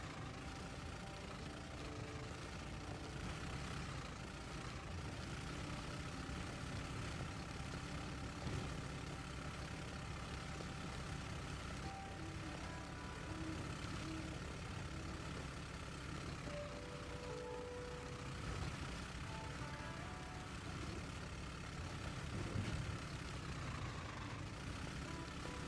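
A 4x4 car engine drones steadily at low volume in the off-road driving game Over the Hill, a continuous idling rumble with faint creaks and squeaks over it and no talk.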